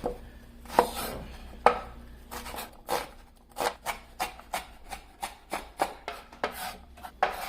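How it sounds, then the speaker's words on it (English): A knife slices onions on a cutting board in crisp, distinct chops. A few spaced strokes open the run, then it settles into a quick, even rhythm of close strikes. "first I'll slice up some onions"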